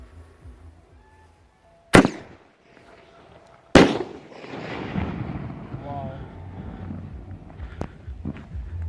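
Two sharp, loud booms from firework cakes and 2-inch shells about two seconds apart, the second trailing into crackling rumble, with voices around and another fainter pop later.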